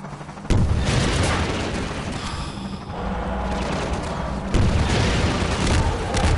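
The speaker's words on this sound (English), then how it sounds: "Shot like a million rockets at this guy" Rockets exploding against the gunship in Half-Life 2: two heavy, sudden blasts about four seconds apart, with loud, sustained combat rumble between them.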